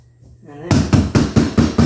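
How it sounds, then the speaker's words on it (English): Steady series of six hammer taps on a freshly laid floor tile, evenly spaced and loud, each a sharp thud with a short ring, following a brief murmur of voice at the start. "Grab a hammer and give it a little bit of love taps."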